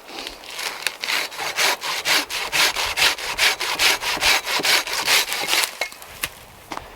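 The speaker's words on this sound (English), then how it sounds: "I just want to get a little area trimmed out here so we can get stuff back nice and tight underneath this tree" Hand saw cutting through tree branches outdoors, a close, loud run of rhythmic back-and-forth strokes with a few scrapes at the end.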